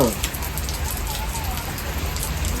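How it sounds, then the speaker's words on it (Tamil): Steady rain falls on a surface throughout, a dense even hiss of drops with a faint voice in the background. "மழை பெஞ்சிட்டு இருக்குது"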